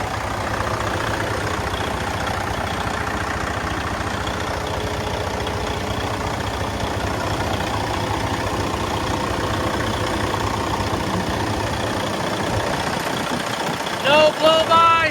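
A 2011 Western Star 4900 combo vacuum truck sits idling with its engine giving a steady, loud, low rumble and vibration throughout, broken near the end by a brief burst of clatter.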